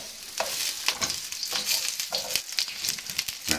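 Shallots sizzle steadily in a hot pan, close and continuous, with irregular scrapes and knocks as a wooden spoon stirs them.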